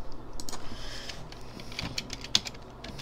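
Typing on a computer keyboard during a Call of War strategy game session: quick, light, irregular key clicks at close range, fairly soft and steady over a low background hum.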